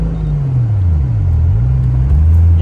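A BMW car engine revs and rumbles close by, pitch sliding down and back up as the throttle is blipped, a steady loud growl throughout.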